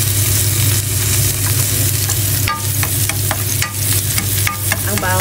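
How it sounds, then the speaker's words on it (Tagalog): Garlic fries in a pan with meat, giving a loud, steady sizzle with stirring scrapes and clinks throughout. "Kapag na po ang karne, ilagay na natin ang bawang."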